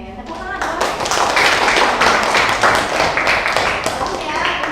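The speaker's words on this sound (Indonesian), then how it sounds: "Oke, tepuk tangan dong." A classroom of students clapping hands together, a loud dense burst of close applause that runs for several seconds, with some voices under it.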